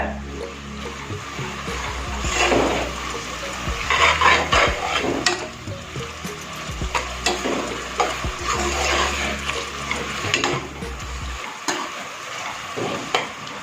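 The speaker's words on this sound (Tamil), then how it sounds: "கொத்தமல்லி புதினா 1 கைப்பிடி வதக்கிக்காங்க." Fresh coriander and mint sautéed and stirred in a pan for paneer biryani, a steady close sizzle with intermittent scraping stir strokes, running throughout and dropping away near the end.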